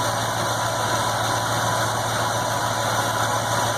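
A rebuilt Lincoln Navigator 5.4 3V V8 idles steadily just after its first start, a close, even engine hum running unbroken with no one talking.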